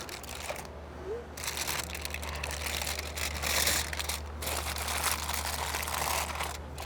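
Smoked ribs are unwrapped after two hours wrapped, giving continuous close crinkling and crumpling of foil or paper with soft rustles throughout, over a low steady hum.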